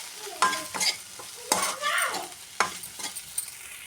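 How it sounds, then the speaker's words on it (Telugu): Cut idli pieces being stir-fried in a pan, sizzling oil broken by several sharp scrapes and clatters of the spatula tossing the pieces, in irregular bursts close by. "ఇప్పుడు ఇందులోకి మనం కట్ చేసి పెట్టుకున్న ఇడ్లీలు వేసుకొని ఒకసారి మంచిగా మిక్స్ చేసేసుకోవాలి"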